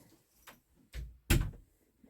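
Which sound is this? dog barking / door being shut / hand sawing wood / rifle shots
door being shut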